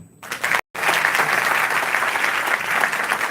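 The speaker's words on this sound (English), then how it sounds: "can we give them a clap?" After a brief quiet moment, a room of business school students breaks into steady, full applause, a loud continuous patter of many hands clapping that holds to the end.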